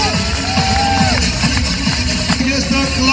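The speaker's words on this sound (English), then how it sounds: "clap your hands for Barefoot Production, show Fire and Ice" A crowd claps, cheers and whoops through a fire and ice show in Egypt, a dense steady roar of applause with shouts and some mixed voices on top.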